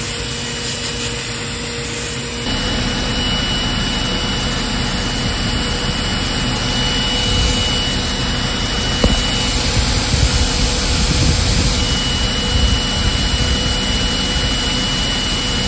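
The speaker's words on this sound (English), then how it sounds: "Shouldn't be leaking air like that." Air hisses steadily and loudly from a leaking Bendix MV-3 dash brake valve, a continuous close rushing sound that jumps louder after a couple of seconds and then holds.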